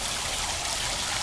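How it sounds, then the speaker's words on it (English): Falling water at Falls Park on the Reedy River, a steady, dense rushing wash with a bubbling edge, loud and close, with no voices. "The sound of bubbling water"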